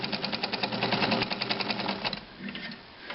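Necchi BU Nova sewing machine stitching at a quick pace on a long stitch length, a rapid close mechanical rattle that runs fast, then slows and fades toward the end.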